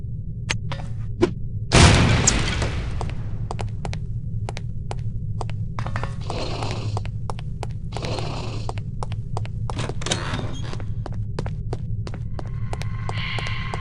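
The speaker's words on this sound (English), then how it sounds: "These relatively inconspicuous-looking lipsticks are actually powerful explosive devices that detonate on impact." A lipstick-shaped explosive device detonates on impact in the spy video game NOLF. A single low boom near the start rises over a steady droning hum, with faint regular ticking running throughout.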